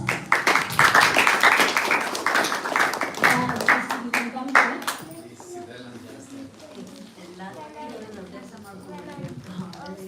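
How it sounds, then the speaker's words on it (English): Audience applause rings out for several seconds, dense and steady, then fades as a voice starts talking. "who has been a backbone to our Guru Revati, also deserves a great round of applause"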